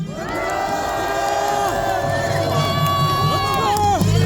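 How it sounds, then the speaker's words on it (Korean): A large crowd at a rally outside Korea University's main gate cheers and shouts loudly and continuously, voices rising and falling together, with a steady roar of noise throughout. "큰 박수 부탁드립니다."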